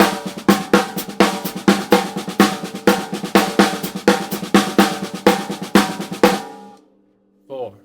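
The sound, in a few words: drum paradiddle patterns played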